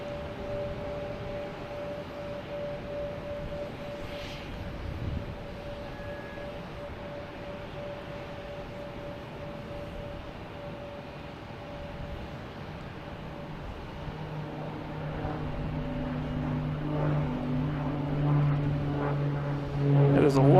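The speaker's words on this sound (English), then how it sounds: "we have another Cessna taking off heading to Bahama" A Cessna propeller plane takes off from Boston Logan Airport, a steady droning hum with tonal lines that thickens and grows louder toward the end as the engine builds power; a voice is heard faintly at times.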